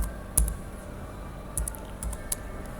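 Sparse keystrokes on a computer keyboard while router configuration commands are entered: a few isolated clicks, then a short cluster of taps, close and clear over a quiet background.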